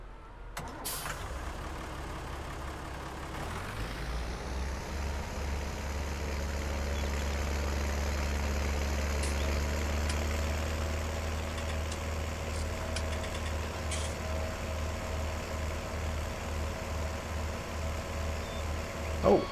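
Small tractor in Farming Simulator 19 starting up and settling into a steady, low engine idle that holds close and constant throughout, with no talking.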